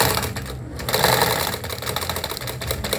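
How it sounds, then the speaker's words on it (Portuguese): A Vigorelli ZZ/A Robot sewing machine stitches fabric, its rapid needle clatter running loud and steady up close, with a brief lull near the start before the mechanical rhythm picks up again. "E agora nós vamos costurar."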